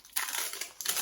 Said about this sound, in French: c'est du scotch noir